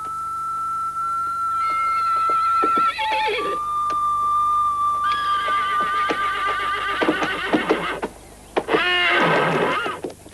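Horses at a livestock market whinny and neigh repeatedly, several loud, close calls overlapping in sequence, with no voices.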